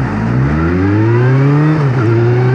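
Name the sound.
tractor engine pulling away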